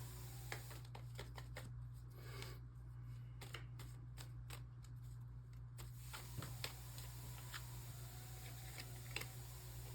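Tarot cards being shuffled and drawn during a Pisces reading, a run of soft, quick riffling ticks and flicks close by, fairly faint, with no talking over it.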